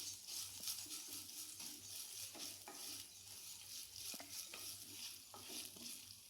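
Ingredients with grated coconut are sautéed until golden brown, producing a soft, steady sizzle with regular scraping stirs of a spatula. The sound is fairly quiet and no one speaks.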